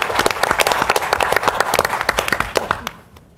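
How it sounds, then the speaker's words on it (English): Applause from a symposium audience marking a 30th anniversary, a dense burst of many hands clapping that fades and dies away near the end, no talk over it. "I want to take the opportunity to lead a round of applause for Cami and the whole National Coordination"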